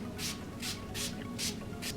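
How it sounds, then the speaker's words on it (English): Five quick hissing spritzes of Wet n Wild Photo Focus setting spray misted onto a face, evenly spaced bursts close to the microphone over a quiet background. "I'm going to give my face a few spritz."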